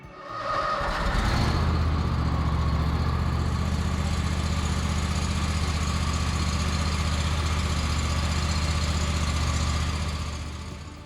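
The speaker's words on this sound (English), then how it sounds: "step one is to run the mower for 5 minutes to warm the engine oil through" A Cub Cadet Z5 riding lawn mower engine starts and settles into a steady, rumbling idle, running continuously and close by while warming up, until it fades slightly at the end.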